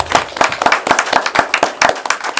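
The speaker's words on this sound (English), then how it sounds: "a round of applause" A council chamber gives a round of applause for town staff: a short burst of fairly sparse, distinct hand claps from a modest group, close and crisp, with no talking over it.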